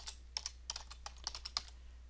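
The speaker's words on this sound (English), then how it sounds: "we'll type in our font" Someone typing on a computer keyboard nearby, about a dozen quick, light key clicks in an irregular rhythm over a quiet low hum, no speech.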